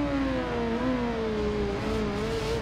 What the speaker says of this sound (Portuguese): O jogo é um simulador de moto.